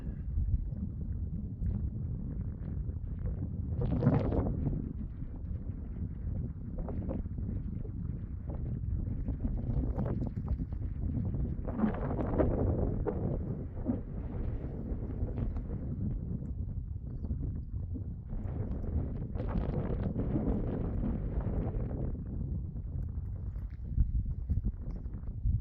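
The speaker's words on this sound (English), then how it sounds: "She's pretty windy." Continuous low rushing wind in the Uinta Mountains buffets the microphone, with louder gusts surging at intervals over roughly twenty-five seconds.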